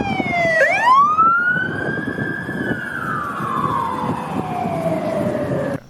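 Electronic siren on a toy police car, a close, loud wail that sweeps up sharply then glides slowly downward in a long sustained tone before cutting off abruptly, with no voices.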